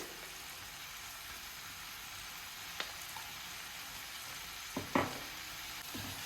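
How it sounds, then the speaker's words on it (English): Vegetables for Karnataka hotel-style kharabath sautéing in oil over medium-high heat: a steady, even sizzle runs throughout, broken by a few faint clicks of stirring near the end. "these vegetables have to be sauteed only in oil"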